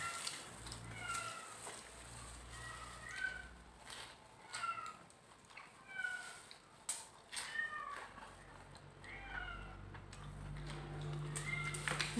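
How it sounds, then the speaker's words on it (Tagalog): A hungry cat meows repeatedly, faint and close, with about six drawn-out cries in an uneven rhythm over quiet background noise during a home meal. "Nagnawa na ang aming pusa."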